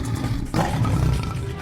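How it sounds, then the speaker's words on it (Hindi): A tiger roars in an animated Hindi cartoon, a loud, rumbling growl that swells midway and holds steady to the end, with no talking over it. "गोलू जानवर की दहाड़ को कोसों दूर से सुनकर महसूस कर सकता था।"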